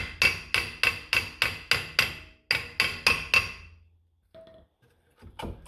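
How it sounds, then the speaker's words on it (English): A hammer taps the face of a Mercedes brake rotor during ABS reluctor ring replacement, a loud, close run of about a dozen sharp, ringing metallic strikes in quick rhythm, then a pause and a few fainter clinks. "I do highly recommend going around and tapping the face of it."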